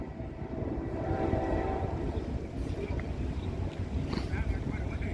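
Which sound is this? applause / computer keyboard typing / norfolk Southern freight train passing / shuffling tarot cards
norfolk Southern freight train passing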